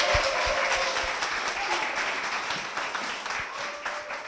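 Sustained applause from a church congregation welcoming a deaconess at Grace Church, a dense, steady wash of many hands clapping that holds evenly for several seconds, close and fairly loud, with no talking over it.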